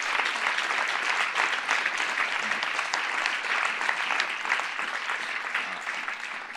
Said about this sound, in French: je voudrais qu'on applaudisse très chaleureusement le professeur Sicard